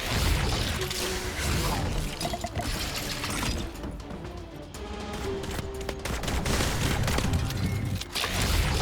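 Rapid gunfire in the game My Time at Sandrock, a dense continuous volley of shots with clanking impacts, loud and sustained for several seconds.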